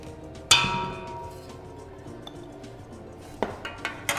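A utensil clinks sharply against a bowl, then scrapes and stirs as croissant dough is mixed with liquid and dry ingredients, ending in a few light taps; close, moderately quiet kitchen sounds with no talking.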